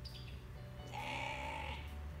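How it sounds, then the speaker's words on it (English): A single Jacob sheep gives one drawn-out, wavering bleat, close by over a low steady farmyard hum. "This is our Jacob sheep."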